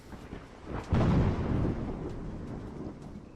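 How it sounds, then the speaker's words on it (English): Thunder from a storm in the video game Dread Flats: a faint, deep rumbling roll that swells suddenly, then slowly fades out over a few seconds. "Damn, the storm."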